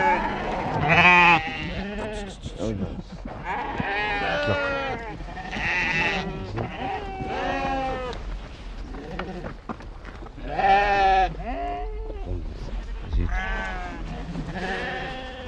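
A flock of Timhadit breed ewes bleats in Morocco, many overlapping calls near and far forming a steady chorus throughout, with louder bursts rising above the din.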